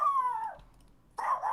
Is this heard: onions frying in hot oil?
no